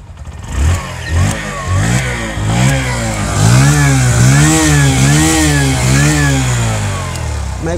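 A new Bajaj Platina 110 ABS motorcycle (2023, BS7, E20) idles close to the microphone and is revved repeatedly, each throttle blip rising and falling in pitch in a steady rhythm of several pulls.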